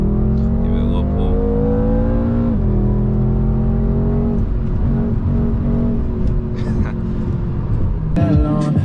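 A 600hp BMW M5 is driven hard on backroads, its engine note loud and close. The revs climb steadily for a couple of seconds, dip at a gear change, then hold a sustained, throaty pull to the end.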